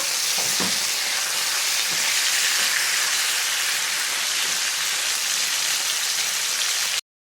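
Potato slices fry in a hot pan, giving a loud, steady, dense sizzle that continues unbroken for several seconds before cutting off abruptly.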